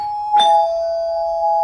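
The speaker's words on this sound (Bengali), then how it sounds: "বাড়ি ফিরে আসে এবং কলিং বেল চাপে।" A cartoon doorbell rings once with a clear, loud electronic ding-dong as a girl home from madrasa presses the calling bell. The chime rings on alone afterward with no speech.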